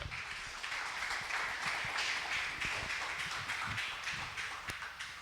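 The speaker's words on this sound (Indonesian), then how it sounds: "Boleh tepuk tangannya buat Ben?" An audience at a musicians' talk show claps for a guest named Ben. Dense, lively applause with sharp individual claps runs steadily for several seconds, then slowly tapers off.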